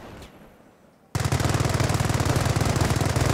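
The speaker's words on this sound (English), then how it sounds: "The MG emplacement will automatically engage." Machine gun emplacement in the Company of Heroes video game opening fire after a quiet second, a loud, sustained rapid burst of automatic gunfire that continues steadily to the end.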